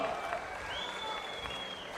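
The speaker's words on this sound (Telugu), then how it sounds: "గట్టిగా చప్పట్లు కొట్టి మళ్ళీ ఒకసారి వీళ్ళు బాగా చేసిన వాళ్ళు అభినందిద్దాం." Loud, dense clapping from an audience at an official government review meeting fills the whole stretch steadily, with a voice faintly audible over it.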